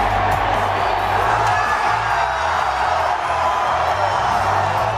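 Large crowd of Botafogo football fans cheering and roaring after a goal in a stadium, a dense continuous wall of voices, loud and steady.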